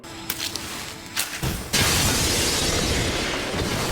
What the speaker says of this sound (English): That's gonna explode.